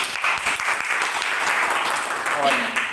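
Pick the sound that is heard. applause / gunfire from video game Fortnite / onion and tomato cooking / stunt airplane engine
applause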